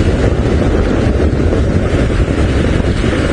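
Strong wind buffeting the microphone on an open safari vehicle during a sunrise drive, a loud continuous rumbling roar with no pauses throughout.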